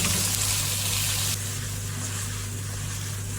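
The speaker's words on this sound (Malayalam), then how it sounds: "നമ്മൾ കുറച്ച് സ്പ്രിംഗ് ഓണിയൻസ് ഇട്ട് കൊടുക്കുകയാണ്." Chicken chowmein frying in a pan gives a loud, steady sizzle as spring onions go in, with a bright hiss that eases partway through over a low constant hum.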